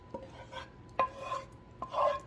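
Drained tortellini being stirred in a casserole dish: three or four short scraping, squelching strokes of a utensil against the dish, close and fairly quiet, with no talking.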